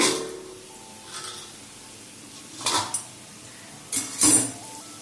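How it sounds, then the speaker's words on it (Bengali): A metal lid lifts off a pan of potato and green papaya frying on low heat, with clanks and scrapes of metal against metal over a faint sizzle, close and fairly soft. "ঢাকনাটা খুলছি"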